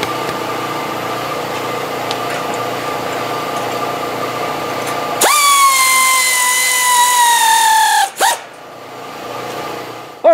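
A power tool runs steadily while tightening bolts during assembly of a utility trailer. Its whine jumps louder and higher partway through, then cuts out with a sharp stop and a short restart burst.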